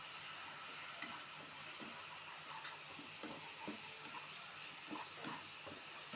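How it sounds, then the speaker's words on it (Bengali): Spice paste of turmeric, chili and coriander powder frying in oil for a liver bhuna, a steady broadband sizzle with scattered stirring clicks and scrapes throughout, close and continuous. "এবার আমি মশলাটা ভালো করে ভেজে তেল বের করে নিব।"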